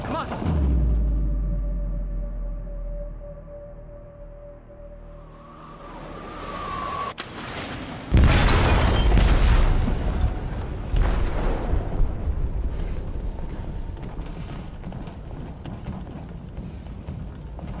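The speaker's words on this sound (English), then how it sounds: "They detonated an explosive in the hold." An explosive detonates in a ship's hold in Detroit: Become Human, a sudden heavy boom after a quieter, tense stretch, followed by sustained rumbling, crashing and turbulent noise that stays loud to the end.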